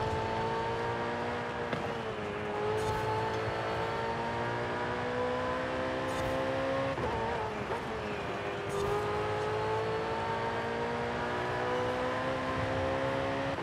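Car engine driving in Forza Horizon 5 during a rainy season, a steady loud drone with rising revs and a few gear-shift dips repeating through the run, alone without talk.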